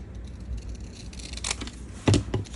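Scissors make a couple of quiet crisp snips cutting through folded paper for journaling, faint against a soft room background.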